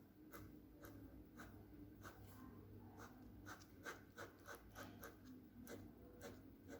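A pencil shades on paper in quiet, repeated short strokes with an uneven rhythm, soft and close against a faint background hum.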